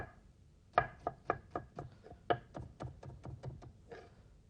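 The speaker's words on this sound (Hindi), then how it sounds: "हरा प्याज बारीक चॉप कर लें" Green onion finely chopped with a knife on a board, a run of about a dozen crisp, evenly spaced chops, close and fairly loud, with no talking.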